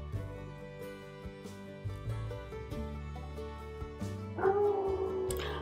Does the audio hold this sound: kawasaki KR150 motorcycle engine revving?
no